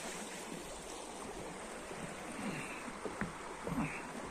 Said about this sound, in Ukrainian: Везде вода в цій сходниці. Місточки, переходи, везде вода тече.